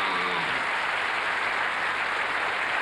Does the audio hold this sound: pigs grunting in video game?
no